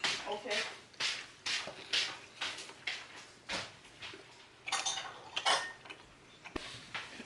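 A ladle scrapes and clinks against a pot and a small bowl as mushroom curry is served in a home kitchen, with a series of short, close metallic taps and scrapes in uneven rhythm.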